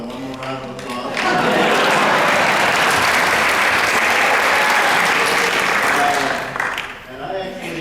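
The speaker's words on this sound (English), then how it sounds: "one more round of applause" An audience at a talk about a hot dog restaurant film breaks into a round of applause, swelling quickly to a loud, dense, sustained clatter of many hands before tapering off, with voices faintly audible at the edges.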